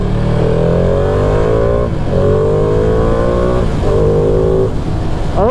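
A 2021 Ducati Panigale V2 motorcycle accelerates hard onto a freeway, its deep growly engine rising in pitch through several gears with short dips at each shift, loud and continuous under rushing wind.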